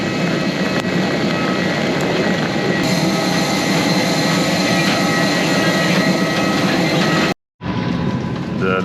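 Loud, continuous roar of an airplane at an airport during boarding, a broad steady whine and rush that cuts out abruptly for a moment near the end before resuming.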